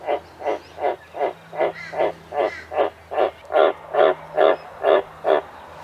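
Green tree frogs croaking close and loud in a steady, evenly spaced series of about thirteen calls after rainfall, with no talk.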